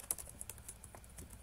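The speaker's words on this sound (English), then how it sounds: "So what I'll do is I can type in save" Quiet typing on a computer keyboard, a short burst of several light key taps at an uneven rhythm, close and soft, with no talking.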